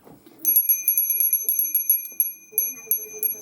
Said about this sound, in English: I also just love this bell.